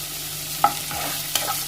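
Chopped onion with salt sautéing in a pan for a Malabar snack, with two short scrapes of a spoon over a faint sizzle.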